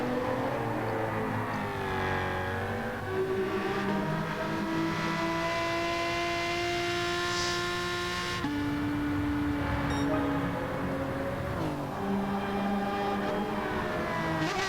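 Race car engines roar in Gran Turismo 7 as a Supra duels a red rival, with a steady whining drone that rises in pitch through gears, drops at upshifts and swells again, loud and sustained with no talking.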